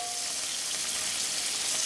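Horsetail shoots sizzle steadily in a hot pan, a close, even crackling hiss that holds unchanged throughout with no talking.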